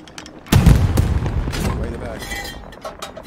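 Gunfire in Hell Let Loose: one loud, close blast with a long rumbling decay, with voices talking over and around it.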